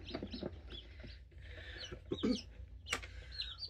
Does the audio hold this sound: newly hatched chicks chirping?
yes